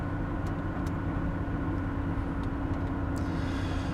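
Steady engine drone and tyre rumble come from a 1986 Pontiac Fiero driving along, loud and close with little variation and no distinct shift, plus a few faint clicks over the hum.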